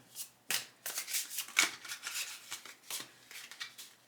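Playing cards being shuffled in a series of quick riffling bursts, crisp and close, with short pauses between them.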